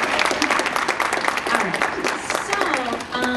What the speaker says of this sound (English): another round of applause feels very appropriate here